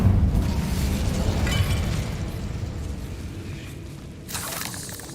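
A fire spell bursts out in Hogwarts Legacy, a loud whooshing roar of flame that swells at the start and tapers, then a second, brighter burst near the end.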